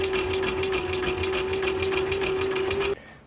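A sewing machine stitches the seams of a military patrol cap, a fast, even mechanical rattle with a steady hum that runs for about three seconds and then stops abruptly.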